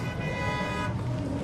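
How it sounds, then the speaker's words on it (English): Car horns toot during a Halloween zombie walk in a small native community, blaring steadily for over a second over continuous street and traffic noise. "Honk your horns!"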